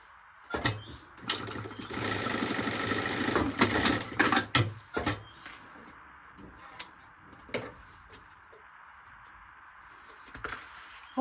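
A sewing machine stitches a seam on a small zippered pouch with a handle. It makes a close, rapid mechanical chatter for a few seconds, with sharp clicks around it, then gives way to quieter fabric handling.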